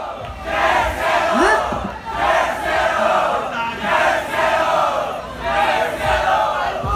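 A crowd at a rap battle during the Virada Cultural 2018 festival cheers and shouts in loud sustained waves, swelling and easing several times, with no clear speech on top.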